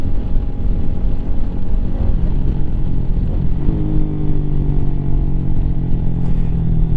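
A Lifan KPM 200 motorcycle engine runs steadily and loud, with a continuous low drone and a pitch shift partway through as the rider changes speed, no talking.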